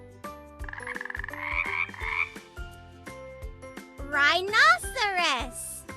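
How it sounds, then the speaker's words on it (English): Frog croaking, presented as an animal sound for babies, comes through in repeated rising croaks over a bouncy children's music backing, loudest near the end. "Frog."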